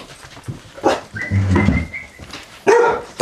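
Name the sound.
dog barking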